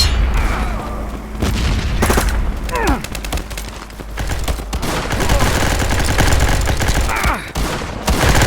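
Video game combat with a grenade blast and bursts of gunfire, loud booms and rapid shots filling the scene with constant battle noise, with brief shouted voices mixed in.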